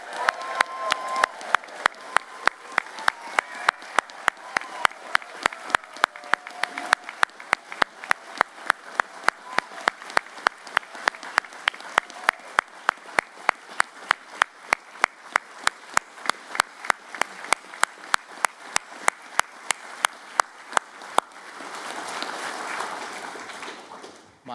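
A graduation audience at an engineering and creative industries ceremony claps in a steady, even rhythm, faint and distant, ending in a brief swell of cheering.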